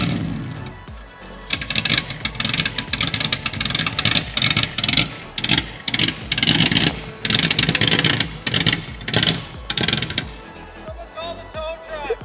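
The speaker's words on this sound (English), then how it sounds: "Sounds like a V8." A 1990 Pontiac 6000 with factory all-wheel drive idling and revving, its engine note rough and V8-like, loud and close with irregular clattering pulses throughout.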